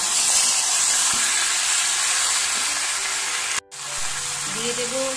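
Masala curry reduces in a pan with a constant bubbling sizzle and steam hiss, briefly cut off for a moment before resuming more softly.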